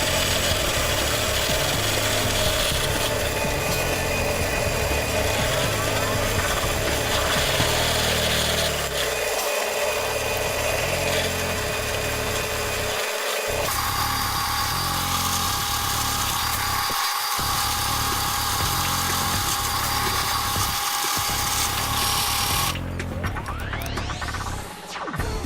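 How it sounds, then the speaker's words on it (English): A steady, loud power-tool drone runs throughout, with brief dips where the motor slows and picks back up, ending in a high whine. "Carefully line up the drill and drill through in a controlled way,"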